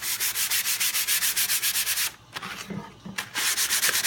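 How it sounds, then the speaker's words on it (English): A painting board sanded by hand before gesso is applied: rhythmic, loud back-and-forth scratchy strokes, briefly pausing midway for a few scattered rubs before the steady strokes resume. "go ahead and sand this one"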